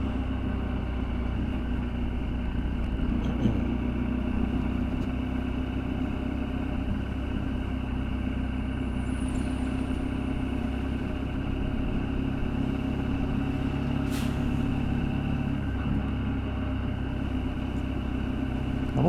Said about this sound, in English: It's like internal combustion engine town street along here.